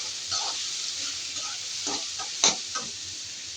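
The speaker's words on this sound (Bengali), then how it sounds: "এই জন্য আমি পেঁয়াজটা হালকা করে ভাজা দেব।" Onions lightly frying in a pan for a fish curry with potato and tomato: a steady soft sizzle with a few faint stirring scrapes and one sharper clink near the end.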